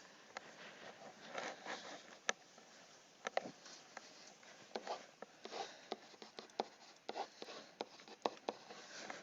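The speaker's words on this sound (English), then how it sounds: "Everybody's writing like crazy." Students scratching pens and pencils on paper in a classroom during an Algebra 2 lesson, a steady quiet scribble with small taps and rustles, with no talk.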